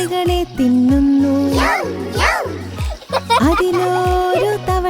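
A cartoon splash as a little frog jumps into water in a Malayalam nursery rhyme, short and bright over a rhythmic bouncy music backing, with a singing voice alongside.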